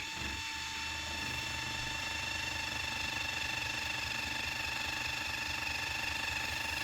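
Small waterproof motor running submerged in a DIY resin wash tank for 3D prints: a continuous steady whine with a faint mechanical buzz, constant level throughout, no speech.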